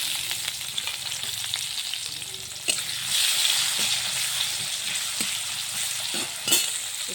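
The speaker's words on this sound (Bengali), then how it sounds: "পেঁয়াজ কটা ঢেলে দিলাম" Chopped onions crackle and sizzle in hot oil in a pan, a steady frying hiss broken by a few sharp pops and stirring scrapes, close and fairly quiet, with no talking.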